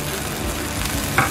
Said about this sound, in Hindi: 2 चम्मच दही डाल के हम इसको मिक्स कर लेंगे